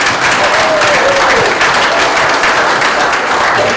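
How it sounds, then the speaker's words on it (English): Audience at an annual meeting applauds, a dense, loud burst of clapping from many hands that holds steady for a few seconds. "let's give everybody a round of applause"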